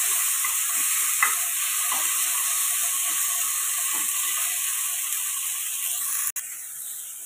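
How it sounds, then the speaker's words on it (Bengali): Chopped tomatoes fry with garlic in a pan, giving a steady, close sizzle with faint stirring scrapes and clicks throughout, and a brief knock near the end. "আমার টমেটোটা ভালো করে ভাজা হয়ে গেছে"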